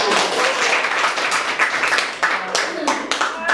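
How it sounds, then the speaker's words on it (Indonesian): An audience claps during a university statistics lecture, producing a dense burst of hand clapping that continues steadily with a few sharper individual claps near the end. "tepuk tangan dong buat kita"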